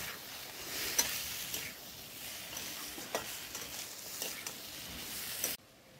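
Spices tempered with radhuni frying for shukto, a continuous hissing sizzle with intermittent spatula scrapes and clinks close by, stopping abruptly near the end, no voices.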